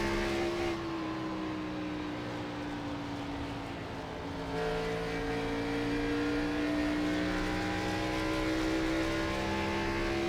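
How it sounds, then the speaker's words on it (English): Race car engine in the iRacing sim at Iowa, held at a steady high-revving drone with harmonics sliding up and down as the throttle is modulated, loud and continuous with no talk. "Go ahead and ride along with him. Hear how much throttle he uses."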